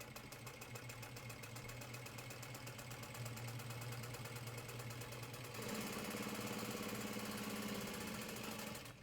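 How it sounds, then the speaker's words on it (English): Juki DU-1181N sewing machine stitching through four layers of folded vinyl, a fast steady mechanical chatter that speeds up and grows louder partway through, close and alone without talk. "we sewed through 4 layers of vinyl"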